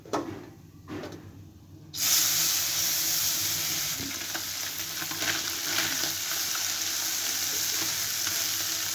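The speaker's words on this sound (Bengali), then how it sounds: "মাছটা আমি দুবারে ভাজবো" Small fish fry in a wok of hot oil. After two quiet seconds a loud, steady sizzle and hiss starts and holds, with light crackles and occasional stirring scrapes.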